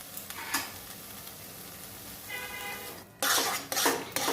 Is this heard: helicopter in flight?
no